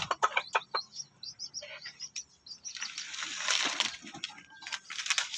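Shamo cross chickens clucking and calling in a yard, a run of short sharp clucks followed by a louder burst of fluttering and squawking, fairly close.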